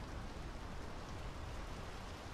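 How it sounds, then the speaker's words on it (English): Steady rain in Draugen, a quiet, even wash of broadband patter with no gusts or breaks, falling alone without voices. "Rain's picking up."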